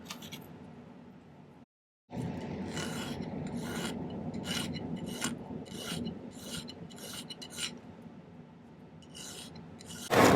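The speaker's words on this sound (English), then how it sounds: "I leave that little extra bit for filing the second side." Hand filing of silver for an Art Deco moth pendant: close, scratchy rasping strokes in an uneven rhythm, starting after a brief silence and ending with a sharper scrape.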